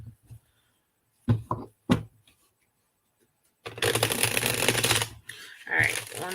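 Playing cards riffle-shuffled in a live-stream setting: a few short crisp bursts early, then a sustained dense rattling riffle lasting over a second, followed by a brief closing riffle.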